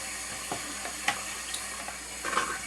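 A plastic spoon stirs beef and stock in a hot pot, the food sizzling steadily while scraping strokes click and scrape against the bottom a few times, close and unaccompanied.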